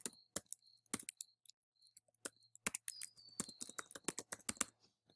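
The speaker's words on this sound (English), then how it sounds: "So I type in my password." Password being typed on a computer keyboard: a quiet, irregular run of sharp key clicks with brief pauses, close up and with no speech.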